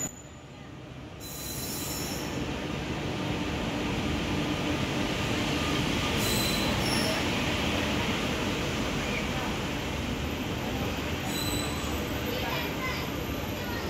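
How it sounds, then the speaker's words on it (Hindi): Train pulling into a station at about 8:05 gives off a long, loud wheel squeal and continuous rolling rumble over the rails, with a brief sharp screech near the start and more mid-way and later. "आ गई 8:05 पे, ये देखो भाई सामने अपनी ट्रेन है।"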